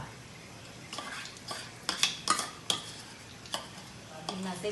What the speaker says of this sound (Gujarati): આ ઘીમાં જો શેકાવા માંડી છે હમણાં મસ્ત દાણાદાર છુટ્ટી થઈ જશે